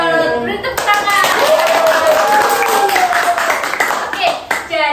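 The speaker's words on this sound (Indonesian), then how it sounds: "Beri tepuk tangan" Classroom clapping during an elementary science teaching simulation, a steady patter of hands from a small group of students, fairly close, with a voice talking over the clapping throughout.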